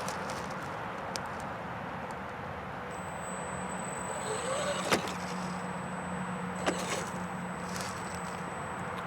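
A Redcat Gen7 Pro RC truck runs on its stock nickel-metal hydride battery, its electric motor giving a thin, steady whine with a low hum underneath, fairly faint against background noise, with a couple of sharp knocks partway through.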